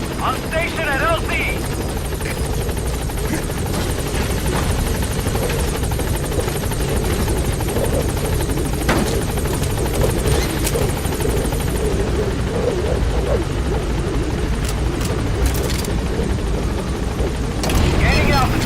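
The Pequod helicopter from Metal Gear Solid 5: The Phantom Pain gives a steady, close, heavy rotor drone that holds throughout, with a voice speaking over it.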